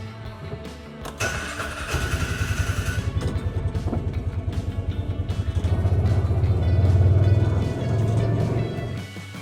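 A Polaris Ranger 500 utility vehicle's engine starts and revs up, then runs with a steady, close, throbbing pulse that swells louder as it drives off. No one speaks.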